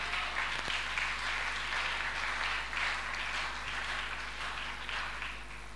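A church congregation breaks into sustained applause that stays full and even for several seconds before easing slightly, heard alone without talk.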